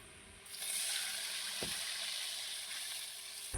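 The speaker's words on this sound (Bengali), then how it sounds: "এখন আমি দেব সামান্য পরিমাণে পানি।" A small splash of water goes into a pan of frying onion and chili, setting off a loud, bright, sustained hiss of steam and sizzle after a quieter start.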